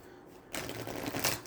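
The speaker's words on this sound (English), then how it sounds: "Do some shuffles and pull on that energy." Oracle cards are shuffled by hand, a short, close burst of rapid papery riffling and flicking that starts abruptly after a brief quiet moment, with no talking.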